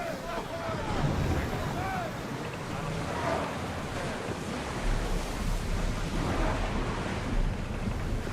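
A sailing ship heads out at sea in Assassin's Creed Odyssey, with continuous rushing waves and wind surging in broad swells and a low rumble underneath.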